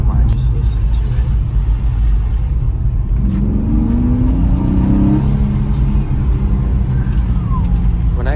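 A salvaged Nissan 350Z with frame damage revs its engine loudly and continuously at close range, a deep rumbling drone that climbs in pitch midway through, with someone talking over it.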